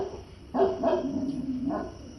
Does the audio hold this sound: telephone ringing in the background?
no